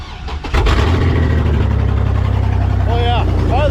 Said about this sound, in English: There she is, idle it, it's running.